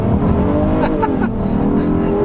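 A 2025 Honda Odyssey Elite minivan with a 3.5-liter V6 accelerates hard on a back road, front tires spinning, its engine revving loudly and close.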